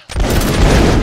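A volley from an artillery brigade firing line, a single dense, loud, close crash of many guns going off at once that rolls on as a sustained roar.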